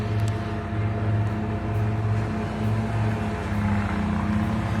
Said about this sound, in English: Sorry for that noise, our neighbor's cutting his grass.